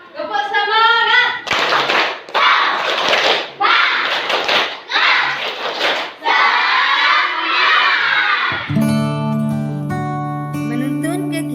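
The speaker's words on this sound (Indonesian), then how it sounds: "Tepuk semangat." A group of schoolchildren does tepuk semangat at an Indonesian scout-style school gathering, several bursts of loud rhythmic clapping with chanting voices between them, then a tonal musical sound near the end.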